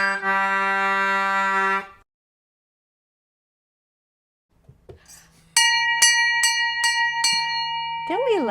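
A hand bell rings out on a ship at sea: one sustained ringing tone, then silence, then a series of rapid bright strikes close by, loud and resonant.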